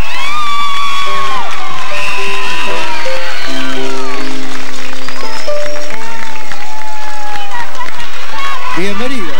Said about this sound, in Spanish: A este amigo lo vamos a recibir con un gran aplauso